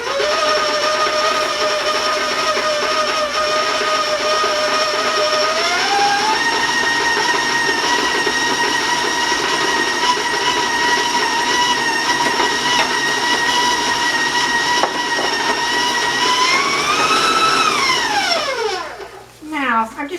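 An electric mixer creams brown sugar in a bowl for chocolate cookie dough, a loud steady motor whine that steps up in pitch, holds at the higher speed, then winds down and stops near the end.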